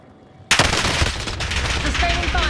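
Sustained automatic gunfire in Call of Duty: Modern Warfare erupts suddenly and keeps going, a dense loud burst of rapid shots with faint background voice.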